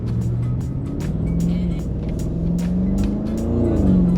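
An Audi SQ7 SUV engine accelerates with a steady, loud, deep drone that slowly climbs in pitch, heard close from inside the vehicle without speech.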